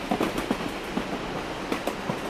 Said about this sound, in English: After 20 minutes, the train has built up some speed